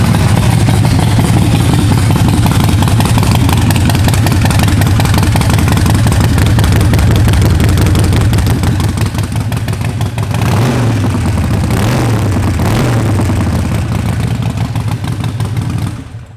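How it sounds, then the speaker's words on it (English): A 2007 Harley-Davidson Nightster 1200 engine running steadily at idle, loud and close, with a deep uneven throb throughout and a couple of brief revs late on before it cuts off. "Let's fire this bike up so you guys can hear it run."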